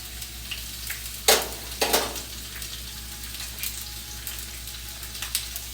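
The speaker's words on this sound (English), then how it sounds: "So I'm going to sear each side of them" Meat searing in a hot pan during low-carb carnivore meal prep: a steady sizzle runs throughout, broken by a few sharp, brighter crackles and spatters as pieces are turned or pressed.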